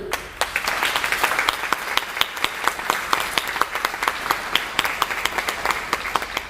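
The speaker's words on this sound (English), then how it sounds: "let's take a moment and salute and applaud all of our speakers" Audience applause for speakers at a governor's proclamation event, with many hands clapping, some sharp individual claps standing out in a loose rhythm, steady and fairly close throughout.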